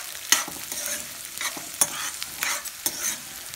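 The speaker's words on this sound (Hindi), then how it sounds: "अब प्याज हमारी थोड़ी भुन गई है, थोड़ी सी शिमला मिर्च डाल देते हैं। सब्जियों को चलो फ्राई करना है," Onions, tomato and capsicum frying in a pan while being stirred, with scraping strokes at irregular intervals over a steady soft sizzle, close and moderately loud, with no voices.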